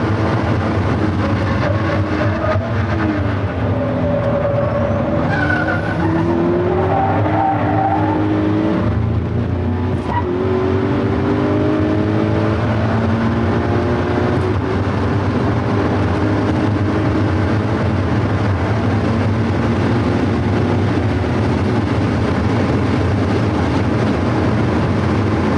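A race car laps Suzuka Circuit, its engine roaring loud and continuous with rising and falling revs through the hairpin and the following corners, heard from onboard with no talking.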